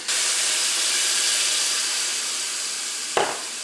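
Water hits a hot pan of chicken spring roll filling, a loud, dense steam hiss that holds steady and then slowly eases, with a brief clatter near the end.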